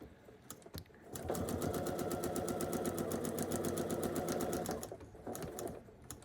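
A sewing machine stitching a quilt tree block runs in one even, fast burst of about three and a half seconds, close and loud, with a few soft handling clicks before and after.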